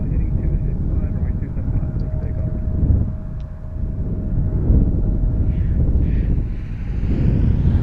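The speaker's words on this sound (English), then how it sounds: "So we got an Airbus A320 coming up from Boston." An Airbus A320 airliner arrives at Philadelphia airport from Boston on a windy morning, its low jet rumble steady under gusty wind noise while a person talks.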